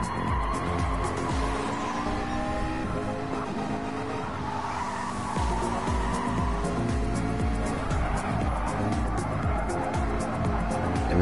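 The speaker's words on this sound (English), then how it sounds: "we do hear the tires of all the McLarens scream a bit" Tires of several McLaren GT race cars squealing and screeching through a corner during a Hankook GT championship round, loud and sustained over roaring engines for the whole stretch.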